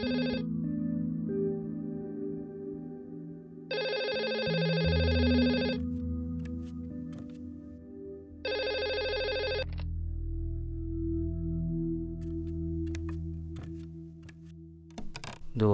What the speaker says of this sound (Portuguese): o telefone toca